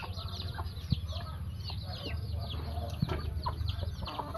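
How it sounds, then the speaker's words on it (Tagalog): Chinese chickens cluck on a farm near their coop, a busy scatter of short clucks and chirps from several birds at moderate distance, fairly quiet with no talk over them. "Chinese chicken."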